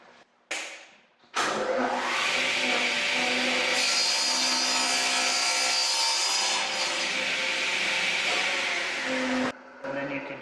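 A 14-inch table saw cuts a wooden part to length with a long, loud, steady whining rip, followed by brief bursts of spinning noise at either end.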